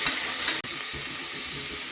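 Chopped onions frying in a pan for pulao, a dense close sizzle with one brief sharp break and soft stirring, no talking.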